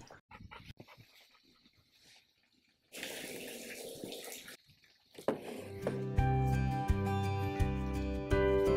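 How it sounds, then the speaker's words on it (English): Water from a hose fills a spray rig tank, a faint trickle and splash at first, then a steady louder rushing gush that continues to the end. "Can I get my assistant to hand me the water hose so I don't have to climb back down?"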